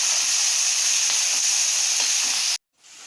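Onions sautéing in a pan for Tamil-style fish curry (meen kulambu), giving a steady loud hiss and sizzle that runs without a break and then cuts off abruptly near the end.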